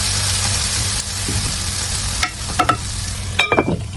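Spiced chili and yogurt dish cooking in a pan over a low flame, a continuous close sizzle with a few sharp utensil or lid clinks near the end and no talking.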